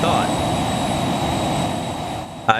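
Loud, steady roar of Phenom 300 jet engines in the X-Plane flight simulator, heard from outside the aircraft, a constant broadband rush with a high whine throughout and a brief click at the end.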